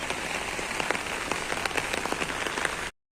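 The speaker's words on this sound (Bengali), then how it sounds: "রোদও হচ্ছে বৃষ্টিও হচ্ছে, রোদ বৃষ্টি একসাথে" Rain falls in bright sunshine, a dense, even patter of drops striking surfaces nearby, steady throughout with no voices.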